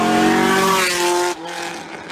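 A Corvette with individual throttle bodies and dry-sump oiling sweeps by, its loud, buzzy engine note with clear harmonics peaking close, then dropping sharply in pitch and volume as it passes.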